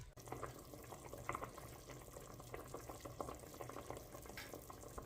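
Gentle bubbling and sizzling from meat simmering in a covered pan on the stove, a steady low simmer with soft irregular pops throughout.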